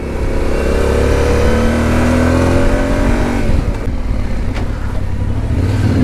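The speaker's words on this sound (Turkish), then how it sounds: "Çok güzel motor." A motorcycle engine revs hard and close. Pitch sweeps upward through the gears, then drops off sharply partway through and settles into a lower, rougher running sound.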